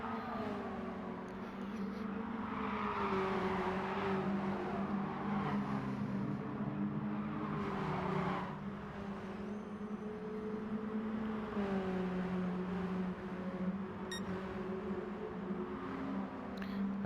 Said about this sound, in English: the sounds of the cars are almost everything you need from this